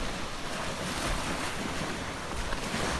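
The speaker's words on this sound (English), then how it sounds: "you'll actually get a little bit of waves coming up on the beach" Boat wakes washing onto the southern end of Fort Myers Beach, Florida, a continuous loud rush of surf mixed with wind buffeting the microphone, with no talking over it.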